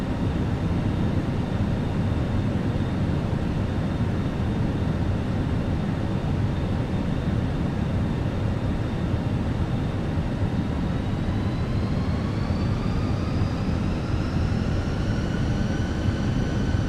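An airliner with flaps extended lands in Microsoft Flight Simulator, giving a steady, loud broadband engine roar with a thin whine that holds level and then rises in pitch toward the end.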